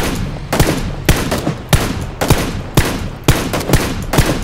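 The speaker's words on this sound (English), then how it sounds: "There's shots down to our left more as well." Gunfire in a video game: about nine sharp, loud shots in an even rhythm, each roughly half a second apart, with no speech over them.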